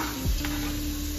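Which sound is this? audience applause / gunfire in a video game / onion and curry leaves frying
onion and curry leaves frying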